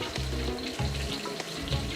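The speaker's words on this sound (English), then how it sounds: "we're just going to go for one single fry here." Tempura-battered beef steak in a single deep fry, giving a close, steady bubbling sizzle with light stirring knocks.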